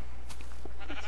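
A sheep in a video game bleats a short, fairly quiet call over a steady background hum.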